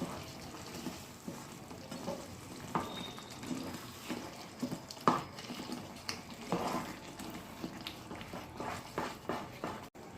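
Jaggery syrup with green gram is stirred in a pan on low heat, with soft bubbling sizzle and irregular scraping and clinking strokes of the spoon, fairly close and quiet.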